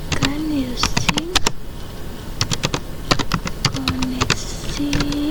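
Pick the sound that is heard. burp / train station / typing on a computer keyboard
typing on a computer keyboard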